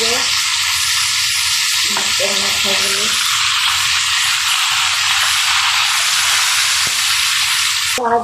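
Sea fish fries in hot oil in a pan, giving a loud, close, constant sizzle that carries on for several seconds. A few brief tonal sounds rise above it in the middle.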